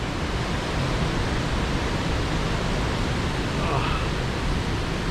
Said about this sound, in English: You can hear the waterfall to my left.